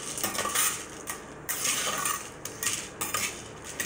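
A spoon stirring a candy mixture in a pot, loud scraping and clinking strokes coming in repeated bursts with brief pauses, close up and without voices.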